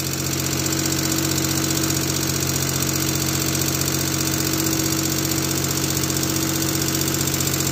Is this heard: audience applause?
no